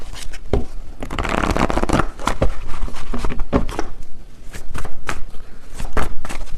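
A deck of tarot cards is shuffled and drawn close to the mic, with brisk papery riffles and slaps in uneven bursts and no speech over them.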